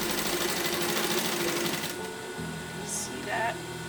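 Sewing machine stitching a French seam at a quarter inch, running steadily and close for about two seconds, then stopping, followed by softer handling sounds.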